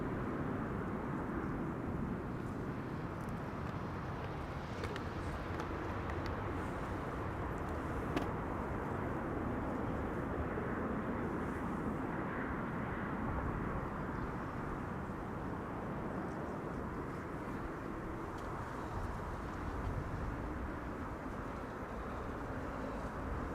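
Ryanair Boeing 737-800 arriving at Amsterdam Schiphol from Dublin, heard as a steady, fairly distant broadband jet rumble that holds evenly with no talk over it.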